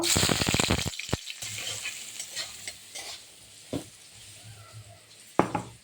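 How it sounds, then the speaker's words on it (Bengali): Potatoes fry in hot oil for a helencha greens curry, giving a loud, close sizzle at first that settles into a steady crackle, broken by occasional stirring scrapes and clinks, with no voices. "এবার আমি আলু দিয়ে দেবো, একটু ভেজে নেব"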